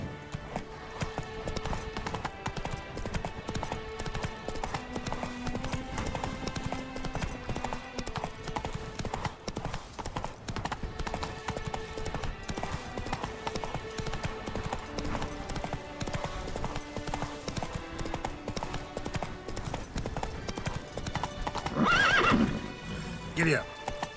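Steady galloping hoofbeats and a whinny from a horse in the video game The Witcher 3, the rhythmic clip-clop running continuously beneath game music, with a voice talking over it.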